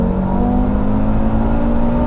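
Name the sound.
685 bhp Audi RS3 accelerating hard in first gear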